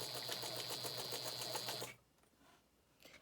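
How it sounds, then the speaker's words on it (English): A sewing machine stitching two quilt-as-you-go pieces together with a quarter-inch seam runs in a fast rhythmic chatter with a high whine, then stops abruptly, leaving quiet room sound. "Sewing our 2 pieces together, a 1/4 inch seam."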